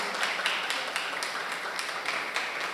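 An audience at a talk applauds a guest, steady even clapping from a modest group at moderate volume.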